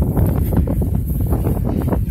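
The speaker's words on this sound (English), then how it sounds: "You see, a nice northwesterly wind." Steady, loud northwesterly wind gusting across a snowy winter street in Milwaukee, buffeting the microphone with a continuous rumbling roar throughout, no voices.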